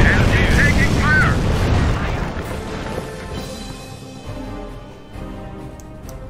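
Gunfire and explosions in Company of Heroes, a World War II strategy game set during Operation Market Garden at Wolfheze, rumble in dense layered bursts that are loud at first and then recede into scattered distant cracks.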